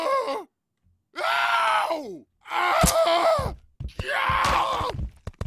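Characters in the video game Happy Wheels let out four loud, drawn-out screams and groans, each a separate strained cry with short silent gaps between them.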